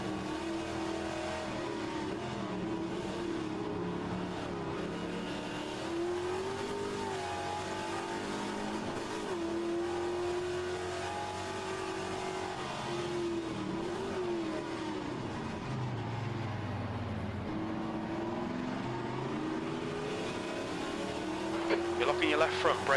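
Cuda race car from the Trans Am series in HRSC racing game, engine droning and shifting pitch continuously through a hairpin-braking lap, steady and loud with a brief burst of clatter near the end.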